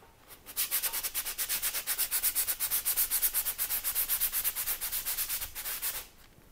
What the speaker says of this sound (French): Ah, lui, il va falloir le poncer sévère.